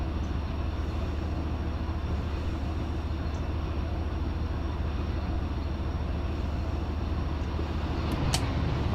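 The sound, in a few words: 710 prime mover locomotive engine sound, Run 8 train simulator video game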